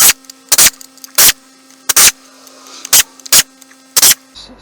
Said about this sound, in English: this is where you're going to probably use your air impact, because these things have a pretty substantial amount of torque on them